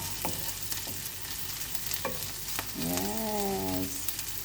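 Garlic fries in a pan with a constant crackling sizzle, broken by several short scrapes of a utensil stirring and a brief squeaky tone near the end.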